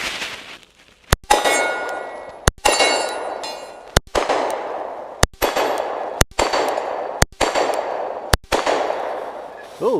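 Colt Delta Elite 10mm 1911 pistol firing, about eight sharp, loud shots at an uneven pace, each with a ringing metallic clang and a decaying echo between shots.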